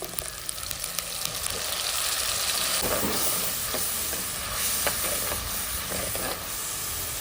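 Tomato paste sizzling in a hot pan for Andhra-style fish curry, a loud continuous hiss and crackle with scattered stirring scrapes, steady from start to finish with no talking.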